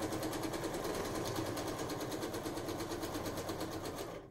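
Sewing machine stitching quilt binding, a steady rapid mechanical whirr with a fast regular pulse, close and unbroken, that winds down in the final moment; no talking.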